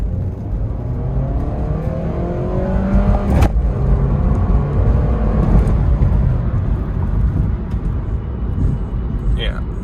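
A used Scion tC with no exhaust leaks and the sunroof closed drives and accelerates toward a corner, heard from inside the cabin as a loud, continuous engine and road drone with a voice talking over it.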